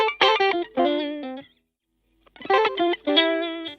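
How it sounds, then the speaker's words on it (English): Two short bursts of processed electric guitar, chorused and slightly distorted, with a clear pause of silence between the phrases. "I knew I wanted guitars, so I found these on Splice"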